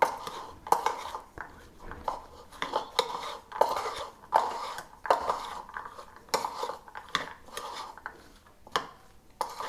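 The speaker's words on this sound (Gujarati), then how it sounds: "એને પણ આમાં સરસ મિક્સ કરી લેશું" A spoon stirs a sweet bread ball mixture in a bowl with a string of close, sharp clinks and scrapes in an uneven rhythm, and no talk over it.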